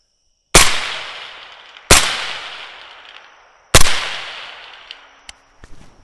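Three loud rifle shots from an ADR Mawl C1+ clone fired from the hip at a target 270 yards away, each a sharp crack with a long rolling echo, spaced about one and a half to two seconds apart, followed by faint clicks.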